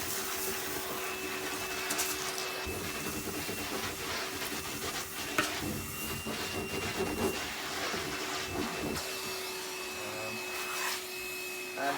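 A Numatic Henry cordless HVB160-2 vacuum cleaner runs continuously with a loud, close, steady motor whine and airy hiss, its hose end sucking with occasional rubbing and rattling changes.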